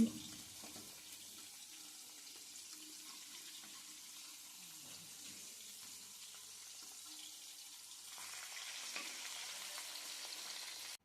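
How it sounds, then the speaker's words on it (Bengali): Vetki fish bones fry in hot oil in a wok, a steady soft sizzle and crackle that grows somewhat louder toward the end, with brief faint scraping or stirring sounds early on. "দেখুন, আমার মাছের কাঁটার দুটো পিঠ খুব ভালোভাবে ভাজা কমপ্লিট হয়ে গেছে।"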